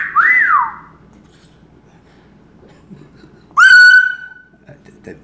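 Two bright whistles, a rising-falling glide first and then a sharp, sustained high note after a pause, loud and close against faint background.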